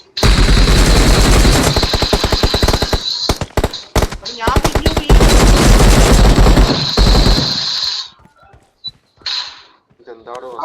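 Bursts of rapid automatic gunfire in a battle royale video game, loud close rattling volleys and single shots over several seconds, thinning out to scattered shots near the end.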